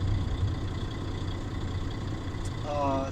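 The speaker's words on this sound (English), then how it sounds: "Turn off the engine," A truck's diesel engine idles steadily during a CDL in-cab pretest, a low constant rumble that carries on briefly before shutdown, with a faint voice at times.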